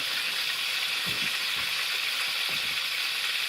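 Bacon sizzles and spits in a hot pan at a cold off-grid log cabin camp, a steady close hiss throughout with a couple of soft low bumps from the pan.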